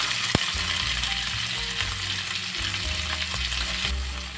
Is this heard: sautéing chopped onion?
yes